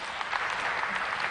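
An audience at a national tax conference applauds a panel, a steady burst of clapping from many hands, moderately close, with no talk over it.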